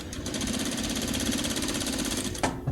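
A Titan 8700D sewing machine stitches a seam at a 1/2 inch seam allowance with stitch length 3, giving a fast, steady mechanical chatter that runs continuously, then stops abruptly.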